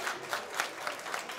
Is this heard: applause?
yes